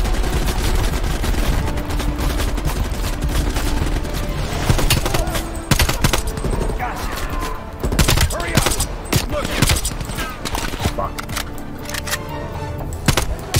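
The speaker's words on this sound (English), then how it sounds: "You do know we're under fire, Adler" Gunfire in the Call of Duty Black Ops Cold War campaign, with dense, sustained automatic bursts and sharp single shots cracking repeatedly through a busy firefight.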